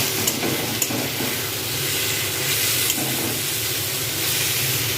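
Kochur loti curry gets stirred in a pan on a gas stove, with a steady close sizzle and hiss broken by a few soft scrapes of the spoon.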